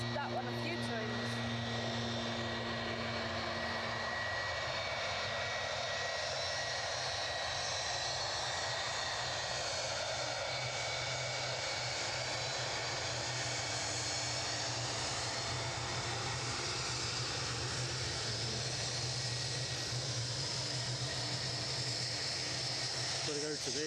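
An airliner arriving at Edinburgh Airport, a distant steady jet engine roar and whine swelling slowly, heard outdoors with people talking nearby over it.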